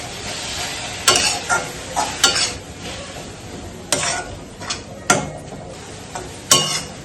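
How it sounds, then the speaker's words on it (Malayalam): Chopped tomatoes being stirred into a spinach curry in a pan, a low sizzle broken by repeated loud scrapes and knocks of a spoon against the pan. "ടൊമാറ്റോ നന്നായിട്ട് നമുക്ക് മിക്സ് ആക്കി കൊടുക്കാം."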